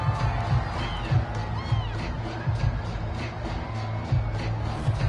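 A home crowd at a football game murmurs and cheers in a steady, distant roar, swelling slightly in places, with an announcer's voice faintly present beneath.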